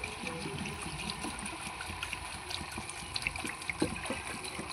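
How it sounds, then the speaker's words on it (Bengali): Water poured into a pot of chickpeas and potatoes seasoned with turmeric, a steady splashing and trickling wash that runs the whole time with small bubbling bursts, close and moderately loud. "এবার বন্ধুরা আমি এতে জল দিয়ে দেব"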